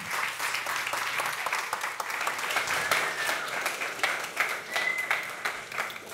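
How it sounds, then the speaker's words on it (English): Sustained audience applause at a talk by an archivist, dense clapping throughout at steady loudness with a little faint talk mixed in. "And a big round of applause now for Rick Prelinger."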